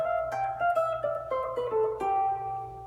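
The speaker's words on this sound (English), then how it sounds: "The fifth mode, which is called Mixolydian," Guitar picking single notes of the Mixolydian mode from G, around eight evenly spaced plucked notes stepping through the scale, clean and ringing, quiet with no voices.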